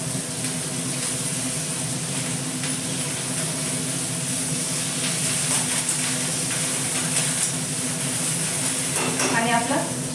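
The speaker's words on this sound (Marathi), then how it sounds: "कढीपत्ता टाकते" Curry leaves hitting hot oil in a pan for a home-cooked Indian vegetable dish, a steady close sizzle with light stirring scrapes and a brief burst of spattering near the end.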